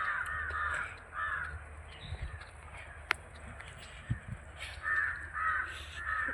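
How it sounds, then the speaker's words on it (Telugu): Crows caw in a park, several harsh calls arriving in short bursts at the start and again near the end, moderately distant over faint ambient noise and a few soft footsteps and knocks. "కాకిలు చూడండి ఎట్లా వస్తున్నాయి."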